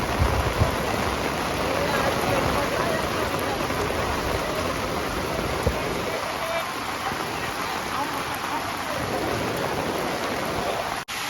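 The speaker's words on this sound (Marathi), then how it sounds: "मुसळधार पाऊस पण आहे" Heavy monsoon rain pours steadily on the Malangad hilltop, a dense, close hiss of downpour that holds unbroken before cutting off abruptly at the end.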